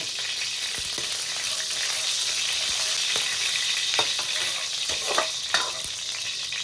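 Dried chilies hit hot oil in a wok while cooking Sichuan maoxuewang. A steady, bright sizzle runs throughout, broken by a few soft clacks of stirring, with no talking.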